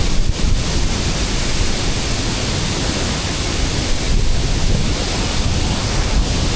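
Rushing water from a mountain waterfall on Mt. Romelo roars as a loud, dense, unbroken wash, steady and close throughout with no voices over it.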